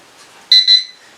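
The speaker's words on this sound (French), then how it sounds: "Et là il a bipé 2 fois. La calibration est faite." A Dragonfly KK13 drone, an Anafi clone, gives two short, bright, high electronic beeps in quick succession after compass calibration, close and clear over a faint quiet background.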